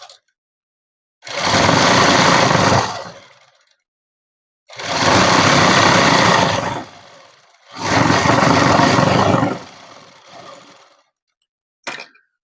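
A sewing machine stitches net cloth for a dress in three long runs, each a couple of seconds of loud steady whirring with pauses between, plus a brief click near the end.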